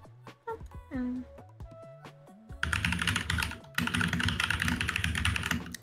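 Rapid computer keyboard typing, dense and continuous clatter of keys up close, starting partway through after a stretch of voice and tonal sounds, then running steadily to the end.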